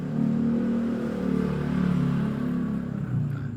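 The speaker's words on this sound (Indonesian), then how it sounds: "Nanti kita akan coba berapa kecepatan motor yang barusan lewat tadi." A motorcycle goes by as a steady, fairly close engine drone that swells gently and then fades slightly toward the end, with no talking.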